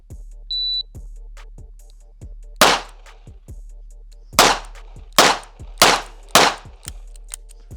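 A J-frame revolver fires five rounds after a short electronic beep: one sharp, loud shot, a pause, then four more in quick, even succession.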